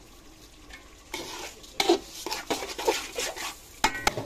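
Beef being stir-fried in a pot for biryani, gentle sizzling under repeated scraping and clattering of a spoon against metal, irregular strokes growing busier, with a brief spoken word early on.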